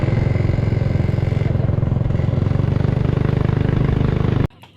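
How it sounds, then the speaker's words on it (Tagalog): A borrowed single motorcycle engine runs at a steady, loud, close-up putter for about four seconds, then cuts off abruptly near the end, leaving quiet. "Tayo po ay magagamit ng motor, single, tayo po ay manghihiram ng motor."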